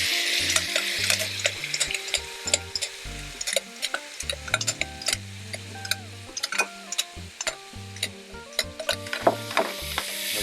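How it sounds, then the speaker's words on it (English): Vegetables sauté in oil with browning seasoning for a Jamaican brown stew chicken, giving a constant close sizzle broken by many sharp utensil clicks and scrapes as they are stirred, with no one speaking. "we're going to saute our vegetables right in this as well"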